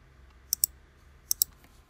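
Computer mouse on a Windows machine gives two quick double-clicks, sharp crisp ticks close up in a quiet room with nothing else heard.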